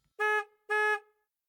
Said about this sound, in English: That's the sound of a car beeping.